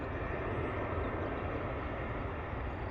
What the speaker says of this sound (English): Looking absolutely gorgeous, that Ryanair on the approach, eh?